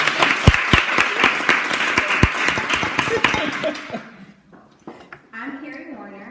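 An audience bursts into loud applause, with sharp close claps over a dense crowd, which thins and dies away after about four seconds before a voice begins speaking.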